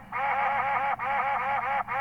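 A duck quacks loudly and close in rapid nasal bursts, three runs of quacks separated by short breaks.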